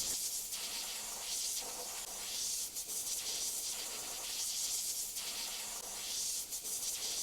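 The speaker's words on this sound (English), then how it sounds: "Using my darker violet tone, I'm going to airbrush in the darker areas. I'm using my Eclipse Takumi." Eclipse Takumi airbrush sprays violet paint onto a silicone skull in a steady, soft hiss with faint pulsing as the trigger is worked, fairly quiet and continuous.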